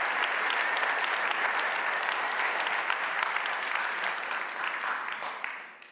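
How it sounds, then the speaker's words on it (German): Church congregation applauding loudly in honour of God during a sermon, a dense, even wash of clapping from many hands that holds steady, then fades toward the end. "Wer kann Gott einen mächtigen Applaus geben zu seiner Ehre und danken, dass er für uns gestorben ist?"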